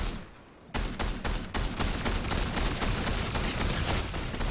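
Heavy gunfire in a shooter video game: after a brief quieter moment, loud rapid volleys of shots break out and continue as a relentless close-range barrage, with no talking.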